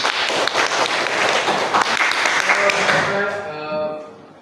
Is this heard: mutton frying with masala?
no